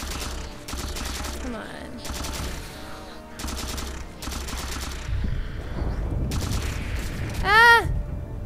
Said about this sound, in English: Let me just throw grenades at these little munchkins.